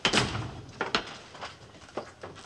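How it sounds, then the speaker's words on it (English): Doors being shut in a scene from the British TV comedy Dad's Army, a series of close wooden thumps and slams, a heavy one at the start and several lighter knocks spread over a couple of seconds. "Shut the doors."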